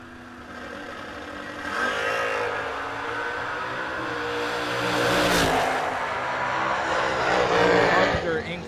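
Drag race cars, including a Chevy II, accelerating hard down the strip in a double breakout race, a loud continuous engine roar that swells and rises in pitch, with a track announcer talking over it.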